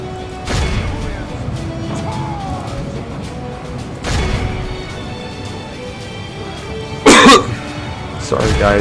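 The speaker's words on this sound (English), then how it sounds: "I've just had a bad cough for about a week." Several harsh coughs and throat clearings from a man with a week-long bad cough, spaced a few seconds apart, close to the microphone over quiet battle sounds from a Medieval 2 Total War game.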